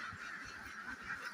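Ducks quack at a floating-system duck farm in Gopalganj, Bangladesh, a faint, steady chorus of overlapping calls lasting just over a second with no voices.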